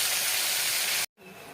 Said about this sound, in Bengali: কড়াই তেল দিয়ে আমি মাছগুলো ভালো করে ভেজে নেব।